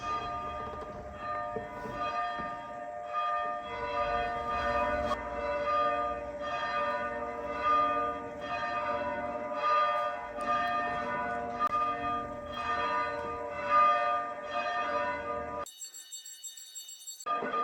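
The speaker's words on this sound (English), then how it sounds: "the bells were ringing for over 5 minutes" Church bells ring continuously in a dense, sustained peal of overlapping tones, loud and steady with no voices, before the ringing cuts off abruptly near the end.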